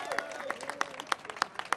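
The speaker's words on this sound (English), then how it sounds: "please give yourselves a round of applause" Sparse, faint applause at a press briefing, distinct individual claps in an uneven rhythm from a small group, with soft voices mixed in.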